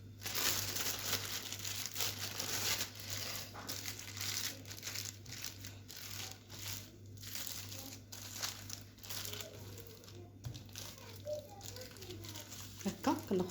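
A plastic bag crinkles as ground kefta meat is portioned and pressed inside it, a close, uneven rustling that runs under a woman's quiet speech.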